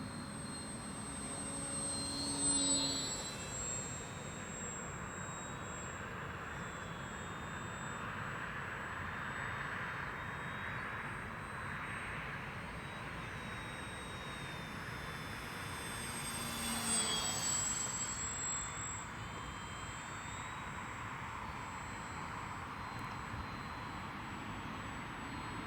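An FMS Ranger 1220mm V2 RC airplane flies overhead with a steady, thin motor whine that holds throughout and swells twice as it passes closer, with no talking.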